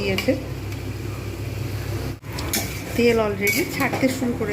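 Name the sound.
sautéing spice paste in a pan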